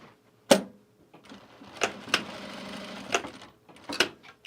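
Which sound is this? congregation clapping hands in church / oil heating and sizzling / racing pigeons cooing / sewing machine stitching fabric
sewing machine stitching fabric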